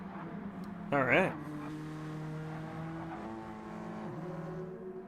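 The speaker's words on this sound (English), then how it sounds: "you can tell by the sounds of the engines" Nissan Silvia race cars run through corners, engines droning steadily with a brief louder rev burst early, while a commentator talks over the racing throughout.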